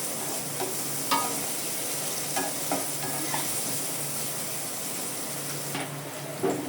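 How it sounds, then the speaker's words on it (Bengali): Steady crackling sizzle of onions frying in hot oil, with occasional scraping clicks of a utensil stirring the pan. "আমার পেঁয়াজটা ভাজা হয়ে গেছে"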